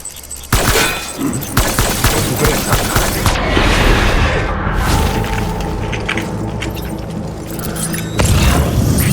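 Video game gunfire in Death Stranding, loud sustained bursts of shots and booms layered with rumbling mechanical noise, continuing densely for several seconds before a fresh sharp volley near the end.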